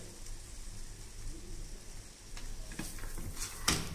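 Sucuk and egg toast sizzling as it browns, a soft, steady frying hiss with faint scraping near the end, quiet and without talk.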